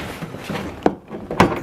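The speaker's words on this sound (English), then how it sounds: "that door panel should pop right off" Two sharp plastic pops a moment apart, close by, as a door panel is pried loose on a square-body Chevy C10 truck, with faint rustling handling noise between them.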